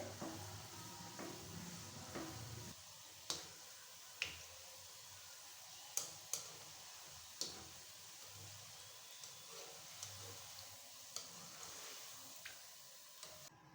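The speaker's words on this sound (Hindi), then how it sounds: "हम हिलाते जाएंगे कि बहुत इजीली इस तरह से फ्राई हो जाएंगे" Gulab jamun frying in oil while being stirred, a faint steady sizzle broken by sharp clicks and taps from the utensil at irregular intervals, with no voices.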